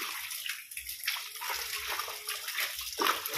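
Water drains out of a concrete fish pond through a filter, making a steady close rushing and sloshing gurgle with no voices.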